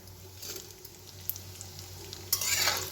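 Cashews and almonds lightly roasting in a pan for upma, a soft close sizzle with scraping stirring strokes that grows louder and brighter toward the end.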